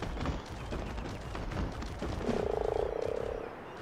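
Frogs croak in a rapid, rattling pulse in ARK: Aberration, a steady buzzing run of croaks rising above a busy backdrop of game noise and thuds, with no speech.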